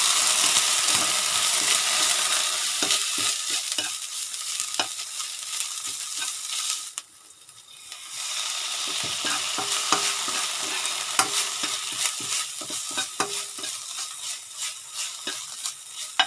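Thai curry paste with a little shrimp paste and a splash of water stir-fried for a catfish jungle curry, a steady sizzle with quick rhythmic spatula scrapes, a brief lull midway, then frying resumes.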